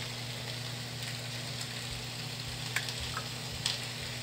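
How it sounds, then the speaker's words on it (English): Sausages frying in a pan, heard as a soft, even sizzle with a low steady hum beneath and a few faint ticks and pops, close by and without talk. "I started our sausage already, so I'm just gonna drop this in and cook with our sausages."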